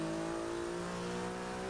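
A Porsche 911 GT2-RS engine holds a steady high rev in Forza 6 during a drag and wheelie run, a sustained tonal drone heard alone for under two seconds.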